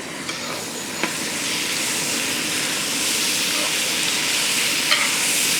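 Onions and tomatoes fry steadily in a pan, a broad, continuous sizzle with occasional faint scrapes from stirring, close and fairly loud with no talking.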